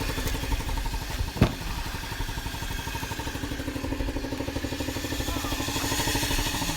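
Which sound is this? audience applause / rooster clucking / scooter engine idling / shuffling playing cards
scooter engine idling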